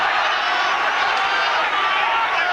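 A boxing crowd's steady, loud roar swells in an arena, a dense wash of cheering voices with no distinct break.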